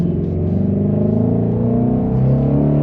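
A Ford Mustang Shelby GT500 or GT350 sports car engine rumbles and revs, a deep, close, continuous throaty growl that swells slightly toward the end.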